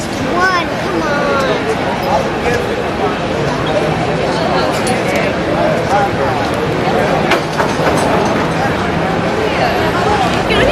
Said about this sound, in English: Because we're getting on the train.